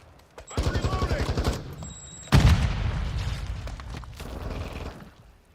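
Rapid automatic gunfire in Call of Duty Modern Warfare II, a close burst of shots followed by a heavy boom and further rattling fire that fades out, with radio-style voice callouts over it.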